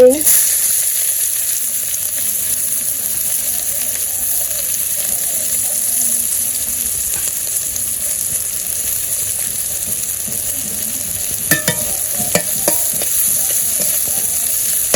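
Fish and onions frying in a pan, a steady close sizzle with stirring and occasional scraping knocks near the end.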